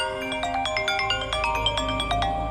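A mobile phone rings for an incoming call, a bright repeating electronic melody of quick tones played steadily and loudly, with no voices over it.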